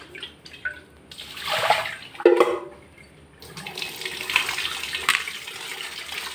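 Clams are being rinsed in water for the fourth time, with sloshing, splashing bursts that swell and fade, moderately close and fairly soft, with no talk over them.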